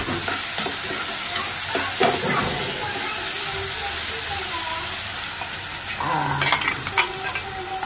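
Masala sizzles loudly in a pan as it is sautéed, with rhythmic scraping and stirring strokes throughout and a burst of busier clattering near the end.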